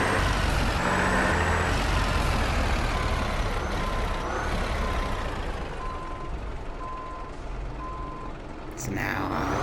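A truck reversing to pick up a trailer in Truck Simulator USA, with a loud diesel engine drone running throughout and evenly spaced reversing beeps sounding partway through.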